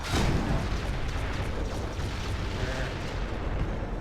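Missile blast in the PC game Descent 3, a loud booming explosion at the start that rolls into a sustained low rumble and crackle for several seconds.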